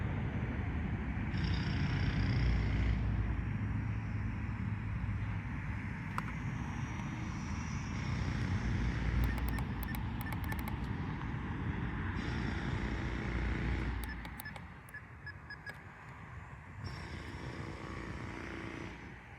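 A Volantex 500 Cub RC airplane flies at half throttle into the wind, its small electric motor giving a continuous buzzing drone that swells and dips slightly as it passes. The sound is steady and moderately loud throughout, with no talking.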